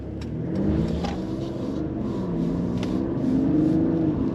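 A Mercedes-Benz GLE450 climbs through its revs on a wet, twisty road, its mid-pitched engine note rising and falling across shifts. The sound is steady and fairly close, with road and rain noise underneath.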